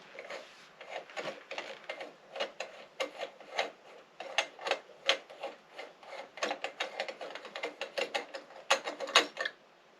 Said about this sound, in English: And then you just unscrew this.